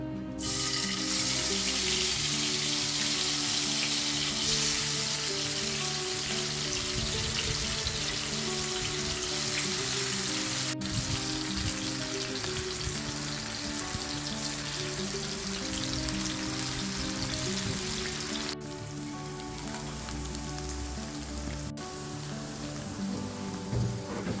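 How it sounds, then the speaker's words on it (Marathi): Potatoes deep frying in oil in a pan for an aloo chingari dish, a steady dense crackling sizzle running loud and continuous throughout with no talk. "बटाट्याला घ्या तळायला चांगलं कडक होईपर्यंत तळा"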